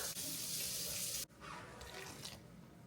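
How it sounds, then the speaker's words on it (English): Hot water poured from a tap or kettle into flour for dough, a steady rushing stream for about a second that stops abruptly, followed by quieter trickling and handling sounds. "Let's go in with 3/4 cups of hot water."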